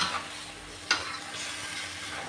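Carrots and mushrooms are stir-fried in a pan for a ginger stir-fry of chicken giblets, giving a soft, steady sizzle with one sharp scrape of the spatula partway through.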